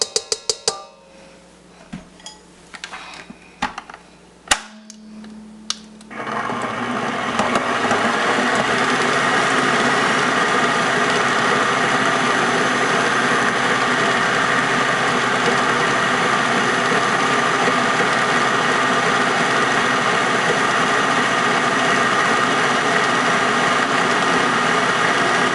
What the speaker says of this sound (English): you want to get your butter into the mixer. And you want to let it cream for a good second